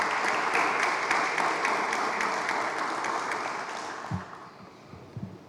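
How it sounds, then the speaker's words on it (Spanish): Audience applause after a foundation president is introduced at an exhibition opening, a dense wash of clapping that starts loud and fades steadily, with a couple of brief thumps near the end. "Un aplauso"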